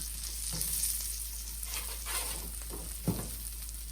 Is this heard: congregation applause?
no